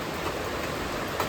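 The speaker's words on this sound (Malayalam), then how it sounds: "പുറത്ത് അത്യാവശ്യം നല്ല മഴ പെയ്യുന്നുണ്ട് കേട്ടോ" Heavy rain falls outside an office, a steady, moderately faint wash of noise with a muffled, distant quality, continuous and without voices.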